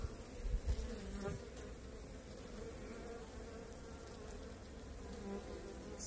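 Honey bees on brood comb cut out from a hive drone in a dense, continuous buzz heard up close, steady throughout, with a few soft handling bumps at the start.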